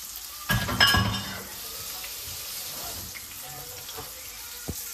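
A stuffed chicken breast fries in a pan over a high flame with a steady, quiet sizzle, opening with a couple of brief clinks of cookware before the frying settles in alone.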